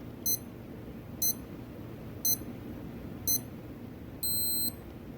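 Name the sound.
Casio W221H watch timer countdown beeps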